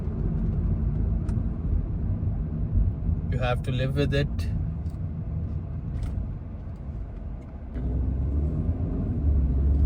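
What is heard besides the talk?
car driving in city traffic in Riyadh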